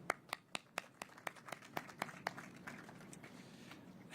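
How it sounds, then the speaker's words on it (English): A few people clap in a sparse, slowing rhythm at an engineering and public works roadshow, about a dozen distinct claps that grow softer and trail off, with faint room noise behind. "Just give yourself a hand of applause"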